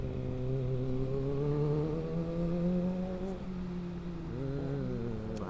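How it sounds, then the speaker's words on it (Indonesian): A big motorcycle rumbles past on a residential street, its engine drone loud and steady, then a second engine note rises toward the end, heard from a rider on a Yamaha Jupiter Z with no talk. "Wes, ada moge lagi nih."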